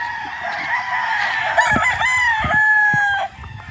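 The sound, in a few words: young rooster (stag) crowing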